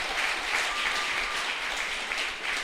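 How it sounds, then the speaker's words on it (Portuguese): A church congregation applauds steadily throughout, a dense, even wash of clapping with no pauses. "Você pode aplaudir o nome do Senhor."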